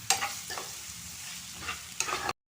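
Sliced onions sautéing in a pan with crushed garlic and ginger for an egg curry, a soft steady sizzle broken by a few brief stirring scrapes near the start, middle and end.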